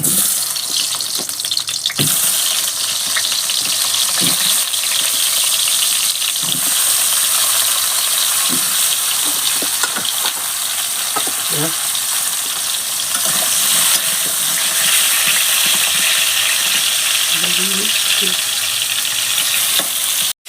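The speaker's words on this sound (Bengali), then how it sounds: "এবার পটলগুলো ভাজবো তেলটা এবার গরম হয়ে গেছে পটলগুলো এবার দিয়ে দিচ্ছি" Pointed gourd (potol) pieces fry in hot oil in a wok, giving a steady, dense sizzle that holds for the whole stretch, with occasional soft clatters from stirring and no voices.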